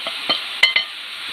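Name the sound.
stirring and frying carrot with bamboo shoot in a pan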